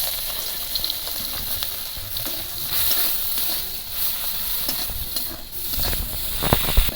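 Prawns dusted with turmeric and salt fry in mustard oil in a wok, giving a steady sizzle and hiss with occasional crackles and scraping stirs, fairly loud and close, with no talking.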